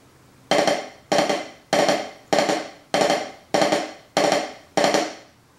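Eight evenly spaced, sharp percussive drum hits in a steady rhythm, each with a quick decay, played alone and close as a diddle rudiment drill with alternating hands.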